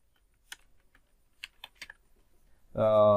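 Light keystrokes on a computer keyboard as a file name is typed in a code editor, a sparse cluster of quiet clicks, followed by a voice that begins speaking at the end.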